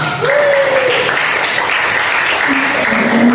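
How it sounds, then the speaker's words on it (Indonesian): A seminar audience at an Indonesian psychoeducation event on academic procrastination bursts into dense, sustained applause that fills the room at steady loudness, with a voice rising briefly over it. "Tepuk tangan dulu dong untuk kita semua"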